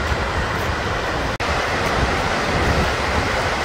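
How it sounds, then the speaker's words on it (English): Broadband roaring rush of an Icelandic waterfall pouring into a deep ravine, dense and constant with one brief dropout, no voices. "we can actually hear the roar of the water and see it going down"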